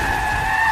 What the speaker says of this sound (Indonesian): John langsung menabrakkan mobilnya hingga membuat mobil Vigo menabrak tanggul